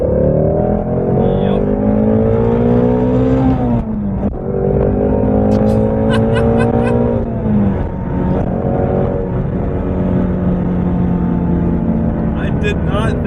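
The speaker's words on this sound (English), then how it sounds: "so now we'll do a second gear pull, again from about 30 miles per hour." A 2017 Ford Mustang Shelby GT350 pulls hard in second gear from about 30 mph, its engine note climbing steadily, dipping briefly at a shift, then rising again loud and close. Someone talks over the engine at times.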